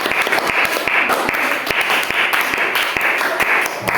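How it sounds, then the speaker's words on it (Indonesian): Classroom applause for a student group, a dense patter of many hands clapping steadily and fairly loud throughout, with no talk over it. "tepuk tangan dulu untuk kelompok 3"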